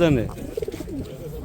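Pigeons coo close by at an outdoor pigeon market, a few soft throaty coos in quick succession amid light background chatter and market noise.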